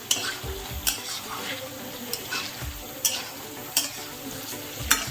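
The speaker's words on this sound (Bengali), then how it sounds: "ভাজা আলু দিয়ে ভালো করে মাংসটা নাড়াচাড়া করা হয়ে গেলে" Chicken and fried potatoes stir-fried together in a pan for a chicken curry, giving a steady close sizzle with periodic scraping clinks of a spoon against metal, roughly one each second.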